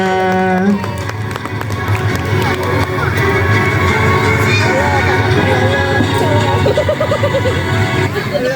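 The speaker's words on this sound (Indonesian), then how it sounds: "beri tepuk tangan yang meriah" A loud indoor audience at a kindergarten taekwondo show claps and cheers continuously, children shouting and voices mixed into the steady crowd roar.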